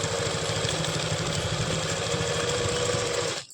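A sewing machine runs continuously, stitching a seam on palazzo pants with a fast, even mechanical chatter up close, stopping abruptly at the end.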